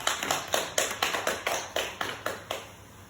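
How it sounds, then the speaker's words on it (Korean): A small group claps in a slow, even rhythm, about a dozen distinct claps in three seconds, fairly quiet and close in an indoor gathering. "박수를 좀 한번 칩시고."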